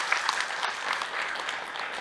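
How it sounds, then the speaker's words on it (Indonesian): Dense audience applause from a crowd at an Islamic religious talk, steady and continuous throughout, fairly loud and close with no talking over it. "Boleh tepuk tangan dulu dong buat Ahilman ya"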